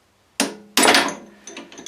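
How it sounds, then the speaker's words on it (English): A hammer strikes a metal wedge to knock a drill bit out of a drill press spindle: two sharp, loud, close metallic taps with ringing decay, followed by faint lighter clinks. "we just have to put in a wedge-shaped bit of metal and give it a tap with a hammer"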